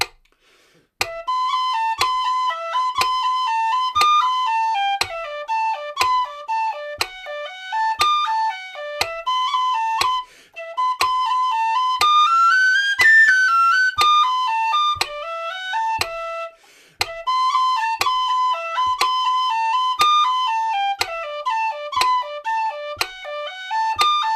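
A whistle plays a slow, steady melody over a regular clicking metronome beat, clear and close throughout.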